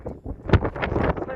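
Wind buffets the microphone on Mount Taranaki in New Zealand, a low rumbling gust under voices talking close by.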